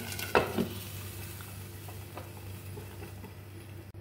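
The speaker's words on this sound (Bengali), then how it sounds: "নেড়ে দিচ্ছি।" White pitha is stirred in a pan, opening with a couple of sharp spatula scrapes against the metal, then a low continuous frying hiss with faint scattered taps beneath a steady hum.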